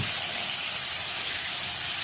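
Pumpkin and potato pieces frying in mustard oil give a loud, close, unbroken hiss and sizzle, steady from start to finish with no voices.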